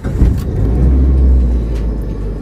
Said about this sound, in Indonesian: Kita nyalakan dulu kontaknya.